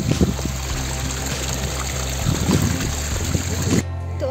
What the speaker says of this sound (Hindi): ये है पहाड़ों का ठंडा ठंडा पानी।